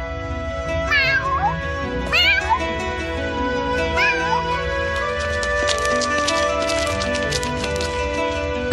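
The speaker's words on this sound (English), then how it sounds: "Oh! My little cat!" An animated cartoon cat gives several rising, wavering meows in quick succession over a busy music bed, the calls loud and close.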